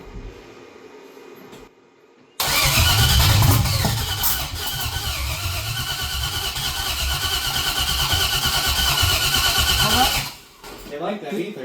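A 1968 Cadillac hearse with a swapped LS engine, fed ether and throttle wide open, cranks hard: a loud, steady churning roar runs about eight seconds after a brief quiet lead-in, then cuts off, with voices around it.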